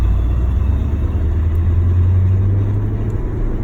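A Porsche 928 under load with a drivetrain noise fault, giving a loud, continuous low drone and engine rumble that holds steady from inside the car.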